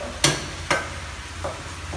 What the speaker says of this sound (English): now while we are frying the potatoes, we will prepare the egg